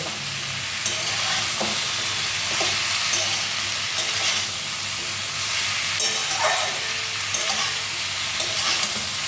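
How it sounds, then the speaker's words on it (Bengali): Eggplant and fresh coriander leaves sizzle and fry in a pan while being stirred, with steady hissing and repeated scraping strokes throughout; no one speaks. "এটাকে একটু ভালোভাবে ভাজতে হবে, তারপরে মশলাগুলি দেবো"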